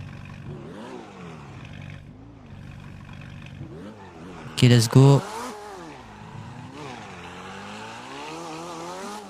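A car engine in GTA 5 revs repeatedly, its pitch climbing and falling in waves across several seconds. A loud, brief crash-like burst cuts in midway, and someone talks over the engine.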